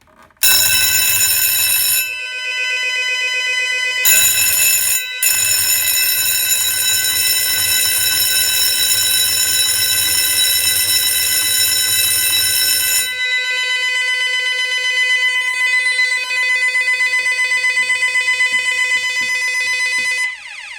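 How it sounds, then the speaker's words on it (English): An early-1990s intruder alarm bell, set off through its tamper switch while connected to a panel, rings loud and continuous with a bright metallic tone, briefly cut off twice near the start, then keeps ringing. "So you had a good sound of the bell there."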